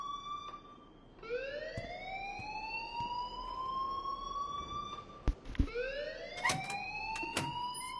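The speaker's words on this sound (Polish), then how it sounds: "please turn off that alarm since that's your job" Fire alarm in the game Life is Strange Remastered, a rising electronic siren wail that sweeps up and holds steadily for several seconds, then cuts out abruptly amid a couple of sharp bangs and restarts, fairly loud and alone without talk.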